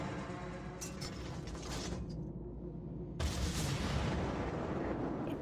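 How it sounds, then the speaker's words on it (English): A torpedo launch aboard the Soviet cruiser Murmansk in World of Warships comes through as a deep, sustained mechanical rumble with a heavy thump midway, followed by a louder, broader rush that holds to the end. "I do launch torpedoes"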